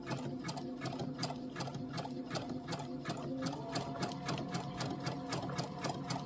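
Sewing machine stitching a curved seam on a Halloween haunted house quilt block, a fast, steady run of evenly spaced needle strokes, close and continuous throughout.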